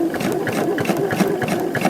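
Sewing machine running steadily while stitching a quilt seam for a star point block, a continuous close whirring buzz with a fast rhythmic mechanical patter throughout.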